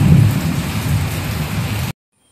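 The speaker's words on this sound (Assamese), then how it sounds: "ইমান বেছি বৰষুণ" Heavy rain pours down steadily, a dense loud roar with deep rumbling underneath, then stops abruptly into near silence.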